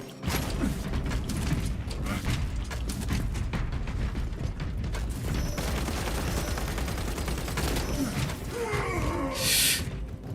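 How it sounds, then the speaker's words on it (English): Bolt pistol firing in Space Marine 2 rings out amid a constant mechanical clatter of battle, heavy and continuous, with no speech over it. "the bolt pistol is interesting"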